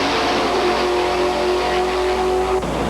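Drag racing machines, gas and alcohol-powered, roar loudly and steadily at close range with a sustained engine tone that cuts off abruptly near the end, no talk over it.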